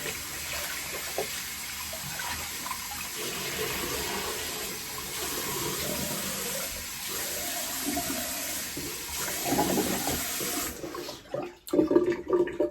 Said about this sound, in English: rinse off with some cold water.